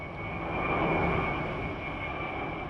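A fixed-wing firefighting aircraft flies over a wildfire, a loud steady engine roar and broad rumble that peaks briefly as it passes overhead, with no talk.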